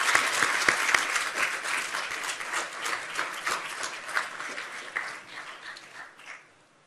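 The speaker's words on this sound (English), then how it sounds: "Give yourselves a big round of applause." Applause from the audience at a Constitution Day swearing-in ceremony for new citizens, a full crowd clapping loudly with sharp individual claps up front, then thinning and fading out near the end.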